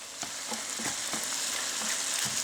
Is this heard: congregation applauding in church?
no